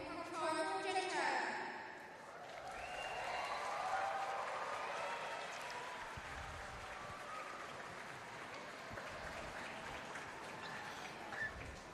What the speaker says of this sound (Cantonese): 歡呼啊！